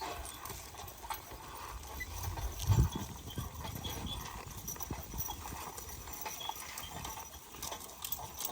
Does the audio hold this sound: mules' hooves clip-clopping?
yes